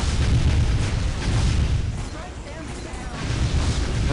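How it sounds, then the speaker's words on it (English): Plasma gunfire from the video game Warhammer 40,000: Dawn of War Ultimate Apocalypse, heard as a dense, continuous roar of booming blasts and bursts with speech-like chatter mixed in, dipping briefly before swelling again. "All this plasma gunfire"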